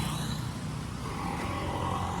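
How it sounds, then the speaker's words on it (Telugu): An electric battery-powered auto-rickshaw on a street, a steady close whirring road-vehicle noise with broadband hiss that holds evenly for about two seconds, with no talking. "ఇగో బ్యాటరీ బండి"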